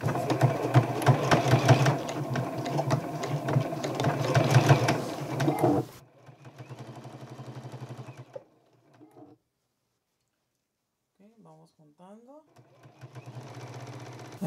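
A sewing machine stitches fabric for an infinity scarf in loud rapid bursts, then softer runs, with a short silent pause and someone talking over parts of it.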